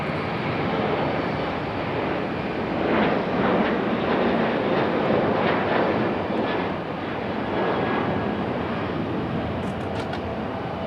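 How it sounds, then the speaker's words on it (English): A Boeing 737 jet airliner heading to Atlanta at Raleigh-Durham airport gives off a continuous engine roar that swells and eases in gentle waves, fairly close and steady, with no talk. "737 making its way back to Atlanta."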